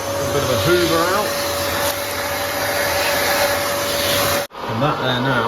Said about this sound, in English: A bit of a hoover out.